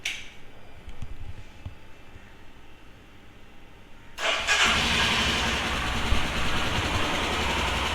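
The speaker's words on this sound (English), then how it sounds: "Cold start." Royal Enfield Himalayan motorcycle engine cold-starting: a quiet opening with faint clicks, then at about four seconds the engine catches and settles into a loud, steady idle that runs to the end, with the valve tappets ticking.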